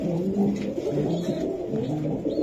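Racer pigeons, one noted as single-knotted, cooing in a low, steady murmur for a couple of seconds, close and continuous without any talk.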